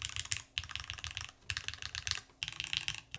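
Typing on a WIND Studio Xlice Alice-layout mechanical keyboard with NK switches, fast clacky keystrokes in three bursts separated by brief pauses, close and clear with no voice.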